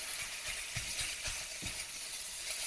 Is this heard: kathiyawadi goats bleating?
no